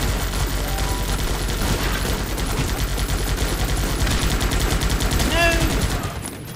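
Heavy, sustained automatic gunfire from the squad combat game Guns Up rattles on in rapid overlapping bursts. A single voice briefly shouts over it, and the shooting thins out near the end.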